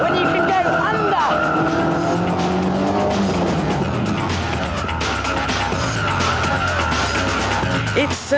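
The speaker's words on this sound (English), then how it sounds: "this Westfield is lightweight and has blistering acceleration, so it has the quickest time so far" A lightweight Westfield sports car revs hard and skids in a car park, tires squealing loudly with the engine roaring close by throughout.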